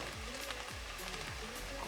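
Chopped onion sizzling in a pan on a stove turned up to high heat, a steady bright crackle with faint stirring scrapes, close and continuous.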